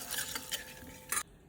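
Mustard seeds, asafoetida and turmeric hit hot oil for a brief tempering, giving soft sizzling with a few quick metallic stirring clinks before cutting off abruptly.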